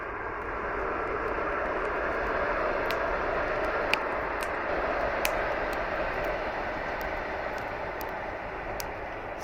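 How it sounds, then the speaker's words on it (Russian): An electric commuter train passing near the Ob reservoir by the Novosibirsk hydroelectric dam, a steady broad distant rumble and rush sustained throughout, with wind and a couple of faint clicks, no speech. "Скажем так, электричка проехала."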